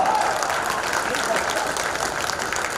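Applause from a poetry recital audience at Ballia Mahotsav rolls as a dense, steady wash of clapping from a large crowd, moderately loud and continuous for nearly three seconds.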